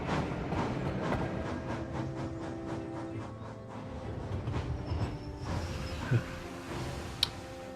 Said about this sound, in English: Flying Scotsman continued to speed along the line.